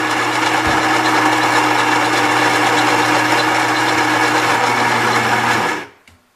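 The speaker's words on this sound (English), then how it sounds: "grinding our beans." A Gaggia Brera super-automatic espresso machine grinds coffee beans: a loud, steady, close motor whir runs for nearly six seconds, then cuts off abruptly.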